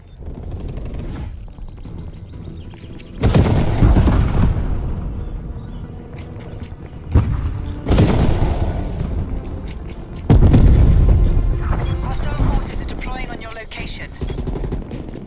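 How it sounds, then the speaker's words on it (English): In the Call of Duty: Black Ops Cold War Dirty Bomb mode, heavy booming blasts and bursts of gunfire rise and fall over a continuous rumble, with several loud explosive surges close by. "Enemy dirty bomb detonation detected."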